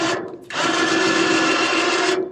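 A cheap eBay 4500 lb electric winch on a car trailer runs under remote control, tightening its line with a loud, steady motor whine and gear drone that starts abruptly after a brief pause and holds evenly for nearly two seconds before cutting off.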